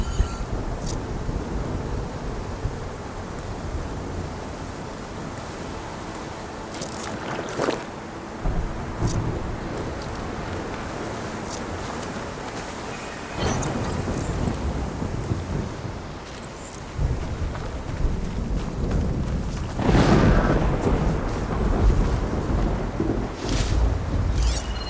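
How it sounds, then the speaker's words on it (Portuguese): Stormy snow weather in the Horizon Forbidden West video game, a continuous roaring wind-like wash with occasional louder gusts and rumbling swells, no talking. "Aqui em baluarte acontece muita tempestade de neve."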